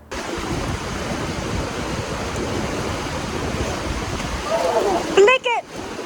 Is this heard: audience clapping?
no